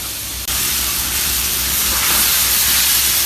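Squid with cumin sears on an iron griddle for teppanyaki, a loud continuous sizzling hiss that jumps up sharply after a brief quieter start and holds steady, with no one speaking.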